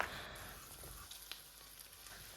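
Onion fries in a pan for pilaf, a faint, steady sizzle and crackle with a few small pops, heard quietly and alone.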